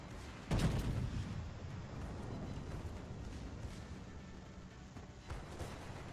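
Scharnhorst secondary battery guns firing in World of Warships, a steady rumbling barrage with a heavy boom near the start and repeated cannon reports over continuous battle noise.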